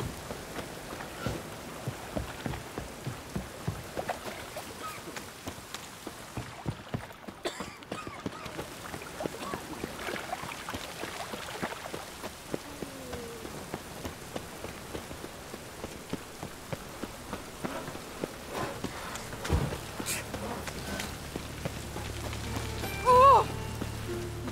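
Rain falls steadily on a surface, a soft, continuous patter of scattered drops that stays fairly faint throughout, with a few brief sharper knocks and a short tonal blip near the end.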